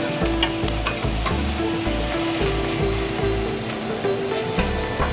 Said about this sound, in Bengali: এবার এটা একটু নেড়ে চেড়ে নিই।